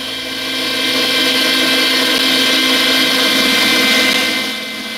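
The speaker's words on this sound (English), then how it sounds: "We will run the ski over the ski tuning belt to sharpen edges and remove rust." A ski pressed against a spinning tuning belt to sharpen its edges and strip rust in a ski shop, giving a steady, loud abrasive whir with a motor hum that holds evenly throughout.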